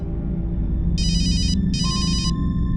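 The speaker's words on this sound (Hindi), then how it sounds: "फोन की घंटी बजती थी" A telephone rings twice in quick electronic bursts in an indoor crime drama scene, with a low hum underneath and no speech.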